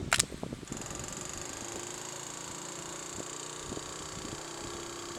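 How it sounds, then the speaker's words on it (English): A cheap small water pump starts up after a few handling clicks, settling into a steady, faint mechanical hum with a high whine that runs on alone. "you should hear the pump kick in."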